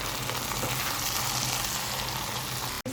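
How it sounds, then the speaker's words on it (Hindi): A potato slice curry with green coriander sizzles steadily and close in the pan as it is mixed, a dense even frying hiss that cuts off abruptly at the very end, without speech. "ये सारी चीज़ें ऐड करके अच्छी तरह से इसको एक दफ़ा हम मिक्स करेंगे।"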